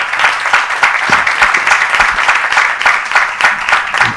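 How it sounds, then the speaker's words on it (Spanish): Audience applause at a panel event on education, a dense, even roar of many clapping hands that stays loud and steady from start to finish. "así que pido un aplauso para ella"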